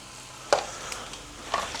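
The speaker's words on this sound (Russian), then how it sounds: "И теперь сюда добавим лук и начнем пережарить все это" Onion and minced chicken frying in a pan, a steady close sizzle broken by two sharp scraping stirs about a second apart, with no talk.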